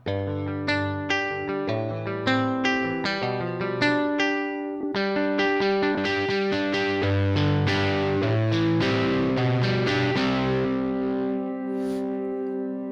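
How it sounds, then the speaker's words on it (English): Distortion electric guitar sample played on a Yamaha arranger keyboard, a run of picked chords and single notes with heavy overdrive, moving from choppy separated hits into a denser sustained passage, loud and close. "let's choose Distortion and let's play now"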